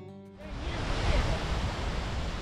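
Steady broadband rush of flowing water, loud and continuous, like a mountain stream tumbling over rocks in Deokdong Valley, Jecheon, South Korea, starting after a brief quieter moment.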